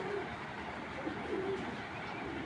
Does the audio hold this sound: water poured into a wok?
no